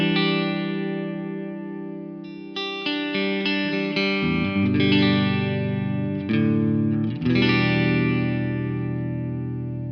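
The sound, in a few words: electric guitar, single-coil neck pickup, through Fender-style amp model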